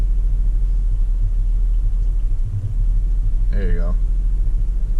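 A Pontiac Grand Prix GTP engine idles with a steady low rumble throughout, under brief nearby talk.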